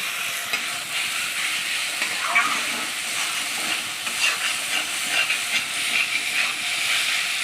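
Spice masala frying in hot oil for a Bengali loitta fish curry, a steady close hiss and sizzle with faint stirring scrapes, no voices.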